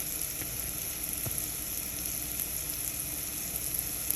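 Sausage and mushrooms sauteing in a pan, a steady close sizzle and crackle running evenly throughout with a few soft clicks and no voices.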